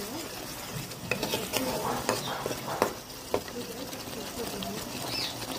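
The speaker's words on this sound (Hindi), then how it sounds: "इसे वो भून देंगे अदरक लहसुन को और प्याज को" Ginger garlic paste and onions sizzle and fry in a pan for fish curry, with a spoon stirring and scraping, occasional clinks of utensils against the pot.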